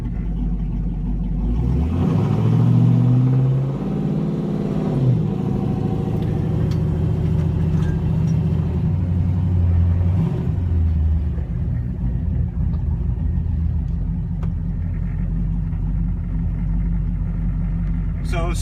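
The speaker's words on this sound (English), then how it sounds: "We're gonna drive this Jeep and just kind of, talk it through." A Jeep JK with an LS engine drives on a test run, its engine rumbling steadily and rising as it accelerates. Someone talks over the noise throughout.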